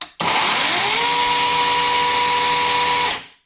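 A GTM CS18/250BL cordless battery chainsaw spins up sharply and runs at a steady, loud, high-pitched electric whine for about three seconds during a chain oiling test, then winds down quickly, with no speech.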